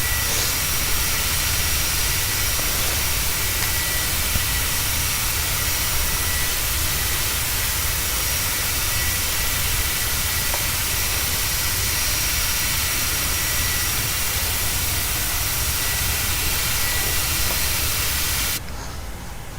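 Rolls-Royce jet engines on an airliner in flight from Manchester to Schiphol give a constant loud, hissing roar that holds steady throughout and eases slightly at the very end; no speech.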